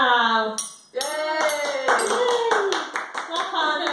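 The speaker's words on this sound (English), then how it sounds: "Clap hands." A baby's hands clapping along to a tune at home, soft repeated claps under an adult's cheerful talking and a melody playing throughout.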